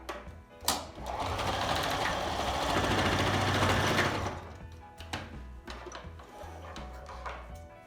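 A sewing machine stitching a homemade face mask, a close whirring run of needle strokes for a few seconds, then softer scattered handling clicks and thumps.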